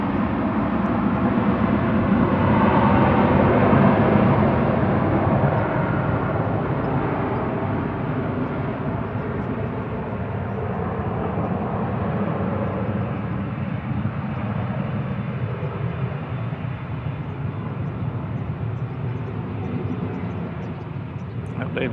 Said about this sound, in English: To go Ryanair, operated by Malta Air to Brussels